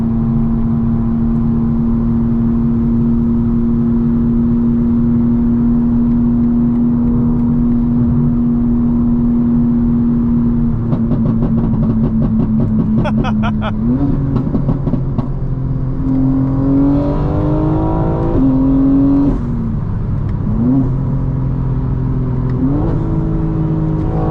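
A 900 hp 2025 BMW M4 Competition xDrive on new suspension, its engine droning steadily from inside the cabin, then revving and climbing through repeated gear shifts, loud throughout with no talking.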